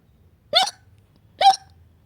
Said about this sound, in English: Suddenly, Peppa starts to hiccup.